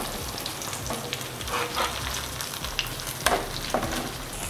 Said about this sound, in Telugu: ఈ విధంగానే మనం మీడియం ఫ్లేమ్లో స్టవ్ని పెట్టుకొని కాసేపు ఫ్రై చేసుకుందాం